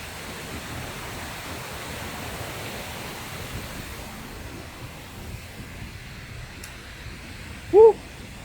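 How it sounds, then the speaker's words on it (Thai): Rushing water from a waterfall in the Shizuoka countryside of Japan makes a steady, even broadband roar that fills the whole span, with one brief tonal blip near the end. "น่าจะเป็นน้ำตกครับผม"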